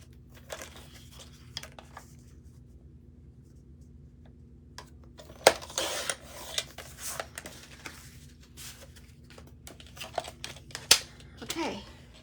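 Scissors or a trimmer cut white cardstock for a scrapbook layout, giving a short burst of crisp snips and paper crinkles in a quiet room, mostly without talk.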